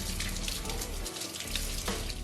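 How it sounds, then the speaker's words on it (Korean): Running tap water splashes steadily over gas stove grates and burner caps as they are rinsed at a sink, a close, continuous hiss and spatter with no speech. "물로 시원하게 깨끗하게 린스해주세요"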